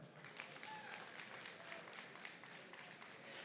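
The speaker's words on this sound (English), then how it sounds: "So also a big round of applause for them." Audience at a farm show claps continuously, a dense, even patter of applause that is fairly faint and distant throughout.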